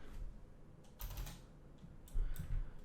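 Computer keyboard typing at a desk, quiet bursts of quick key taps in two short clusters with a pause between, close and soft, no talking.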